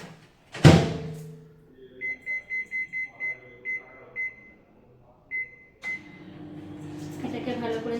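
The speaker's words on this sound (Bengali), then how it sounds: "এইদিকে আমাকে মাইক্রোওভেনটাকে প্রিহিট করতে দিতে হবে" A microwave oven being set to preheat gives a quick run of short, evenly spaced electronic beeps, then a few more after a pause, following a sharp clatter and ending under a speaking voice.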